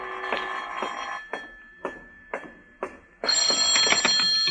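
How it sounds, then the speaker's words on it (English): A telephone bell rings in a 1951 radio drama, several separate rings spaced evenly, then a louder, brighter burst of ringing at the end, with no talk. "This is the telephone company calling, Mr. Marlowe."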